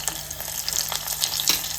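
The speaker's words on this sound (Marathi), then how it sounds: "तेल टाकलं होतं आणि तेलात आता लसूण घेतलं आपण 4-5 लसूण आहे आणि त्याच्यात आता हळद" Garlic, four or five cloves, and turmeric frying in hot oil for a tender cashew mutton masala, with a steady close sizzle and a few soft stirring clicks, no talking.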